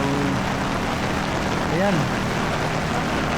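Heavy evening rain pouring down outside a church in Sta. Rosa, Laguna during a flooded Flores de Mayo procession, a steady dense hiss filling the scene while a voice speaks briefly over it.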